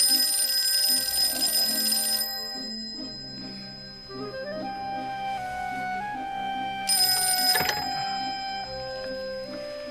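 An old telephone rings in a radio drama, its bell trilling in repeated bursts over a tonal music bed, clear and up front with no speech.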